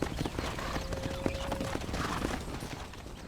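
Horse hooves clip-clop in Red Dead Redemption, a steady walking rhythm of hoofbeats at moderate distance over soft ambient background, with a faint whinny.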